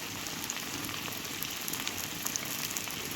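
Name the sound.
unripe jackfruit frying in a pan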